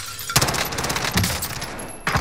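Rapid automatic gunfire rattles in a Call of Duty: Modern Warfare match, loud dense bursts of shots with a short gap and a final burst near the end.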